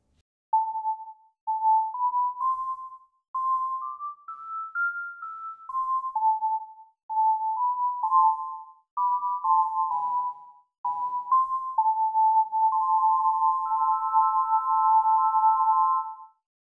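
Simple melody formed by phase-flipped narrow bands within white noise, a psychoacoustic illusion; it comes through as clean, pure, tone-like notes stepping up and down in short phrases, ending on a held chord-like cluster, with no voices.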